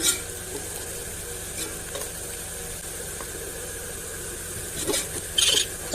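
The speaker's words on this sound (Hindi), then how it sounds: "यहाँ पे प्याज हमारी गोल्डन होने पर आ गई है, अच्छी खासी फ्राई हो गई है। अभी हम इसे थोड़ा सा मज़ीद फ्राई करेंगे।" Onions fry in a pan to golden brown for a restaurant-style boti dish, a low continuous sizzle with occasional scraping stir strokes and a couple of louder clatters near the end, no one speaking.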